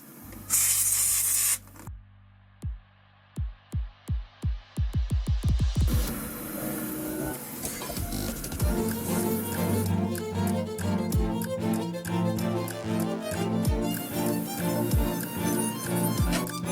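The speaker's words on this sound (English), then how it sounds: "The steam makes sure to blast away any fingerprints or oil that's still on the piece." Steam cleaner blasting a gold-plated jewelry chain and ninja star pendant: a loud, sharp hiss opens, followed by a run of short steam pulses, then a busy rhythmic throbbing hiss with mechanical hum.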